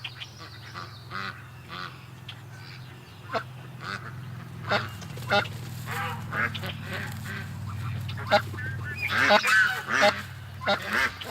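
An upset duck quacks and honks loudly in repeated bursts, close by, over a steady low hum, growing more intense toward the end.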